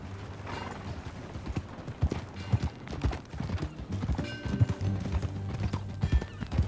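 Horse hooves clip-clopping at a brisk pace in Red Dead Redemption 2, loud and close, with a whinny and mechanical clanks over a steady low game soundtrack and no talk.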